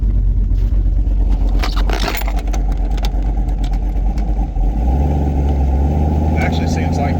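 Warmed-up car engine with a Holley Terminator X setup, running steadily with a loud, rough exhaust drone, a scraping rattle early on and a deeper idle tone later, with someone talking over it.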